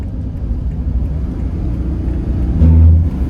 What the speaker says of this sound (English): Oh, I'm passing a big truck.